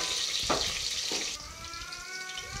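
Onions and green chilies fry in oil in a pan for rice bath, a close steady sizzle with a couple of brief stirring scrapes and no talking.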